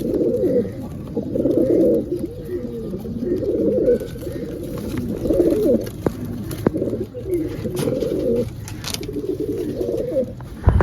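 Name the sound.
pigeons cooing, Ferozpuri pigeon pair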